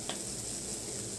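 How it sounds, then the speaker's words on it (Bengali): Spice paste cooked down with tomato in a pan for a pumpkin and green pea curry, giving a soft, steady sizzle that holds evenly throughout with no voices. "দিয়ে আবার এই মশলাটা টমেটোর সাথে ভালো করে কষাবো"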